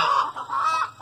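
Araucana chickens in a breeding pen give a short, close, nasal cluck or call lasting about a second, alone with no talk.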